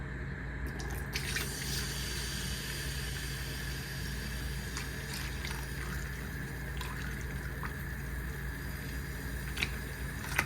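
Filtered beeswax is poured into a pitcher, a faint continuous liquid trickle over a low steady hum, with a few small clinks along the way.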